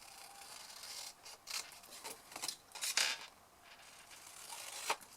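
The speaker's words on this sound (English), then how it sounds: "all we're going to do is cut along that pencil line" Scissors snipping through decorated paper along a pencil line, close and quiet, with a series of short crisp cuts and small scraping sounds, no talk.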